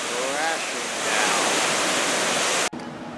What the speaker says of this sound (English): Right here we have a nice skip-long river, and it comes over here and it goes crashing down